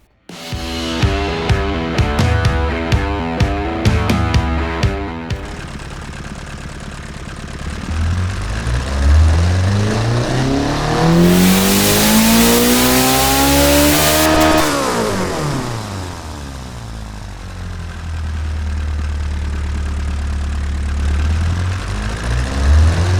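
Revving hard, a 2-liter, 3000-horsepower engine in the Automation car tycoon game sends out rapid blips, then long rising and falling sweeps with a harsh, screaming top end, and finally drops to a rough idle, all without voices.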